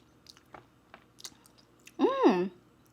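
Someone chewing crunchy food up close, with soft, sparse crunching clicks, then a brief voiced sound from the person partway through.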